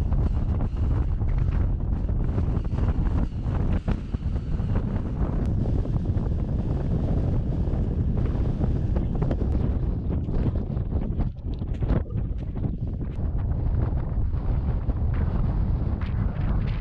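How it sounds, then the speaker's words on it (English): Strong wind on a Colorado 14er summit along the Decalibron hike, a continuous heavy roar buffeting the microphone for the whole stretch, loud and unbroken. "it was super windy up there"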